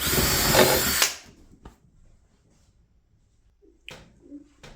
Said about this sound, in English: So here's my countersink bit. I'll countersink my holes.